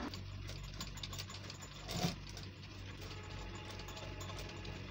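A sewing machine runs steadily while stitching a front placket on a cut-ban garment, a continuous low mechanical whir with a brief louder bump partway through, heard alone at close range.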